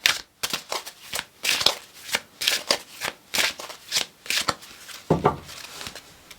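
Oracle cards being shuffled by hand, close and crisp, a rapid series of riffling bursts and soft slaps repeating in an uneven rhythm, with no speech over them.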